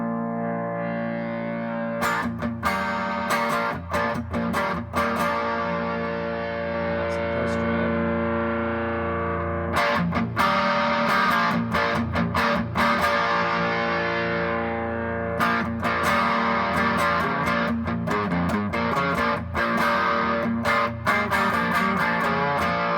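Distorted electric guitar through a Roland GS-6 preamp on its solid type 2 setting with pre-drive, played as sustained chords and riffs with a few brief pauses, loud and steady throughout.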